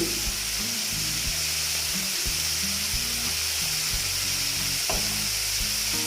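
Shol fish fries in a pan with salt, a loud, continuous sizzle close up with no talk, while background music plays underneath the whole time.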